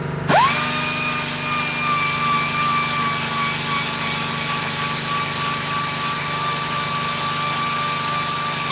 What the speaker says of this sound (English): So any wee marks left by the 600 grit when the sandpaper's gone through.